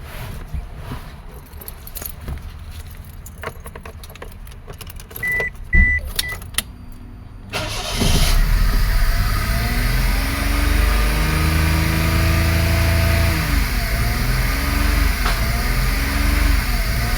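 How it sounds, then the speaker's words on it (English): A 2005 Toyota Passo with a no-start fault cranks and fires up after faint rattles and clicks, then settles into a steady, loud idle with a rising and falling engine whine. "And now we can start the car."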